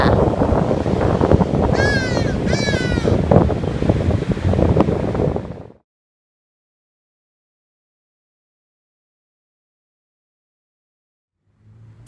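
Hadeda ibis calling from atop a tall pole in Durban, South Africa: a couple of loud, harsh, descending cries heard over wind noise outdoors, followed by silence.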